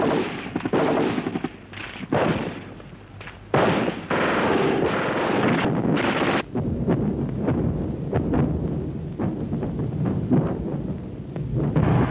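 German 88 anti-aircraft flak guns firing in a WWII setting, heavy booming blasts and rapid bursts layered into a dense, loud, continuous barrage.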